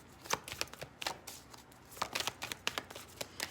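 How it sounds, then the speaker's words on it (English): Playing cards laid down on a surface during a card reading, with a quiet series of soft slaps and shuffling flicks at an irregular rhythm and nothing else heard. "let's get some more cards down"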